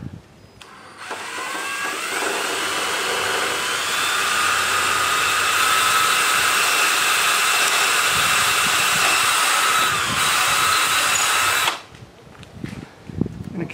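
A power drill runs steadily for about eleven seconds, boring through an existing hole to fit support rods on a VermiBag Mammoth worm-bin stand, its motor whine loud and close before cutting off abruptly.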